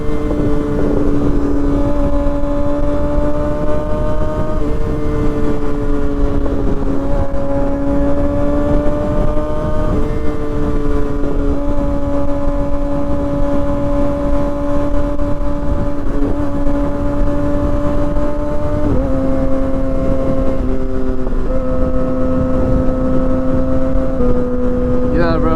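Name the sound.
Kawasaki ZX6R motorcycle with M4 GP19 exhaust riding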